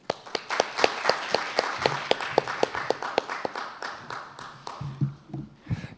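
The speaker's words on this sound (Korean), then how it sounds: "박수로 부탁드립니다." Audience at a policy seminar breaks into steady, fairly loud applause that fades toward the end, with sharp individual claps standing out over the dense clatter and no one talking.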